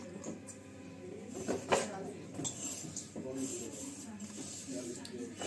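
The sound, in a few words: washing dishes and cutlery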